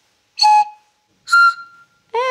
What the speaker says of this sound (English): it makes a lovely whistling noise.